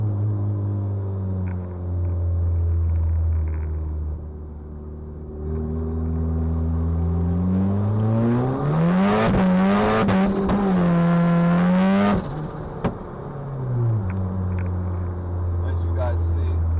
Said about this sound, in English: I'm going to let it rip from second all the way through third.